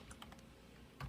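Typing on a computer keyboard while entering figures into a production chart, a few quiet key taps early on and a slightly louder press at the end, close and faint.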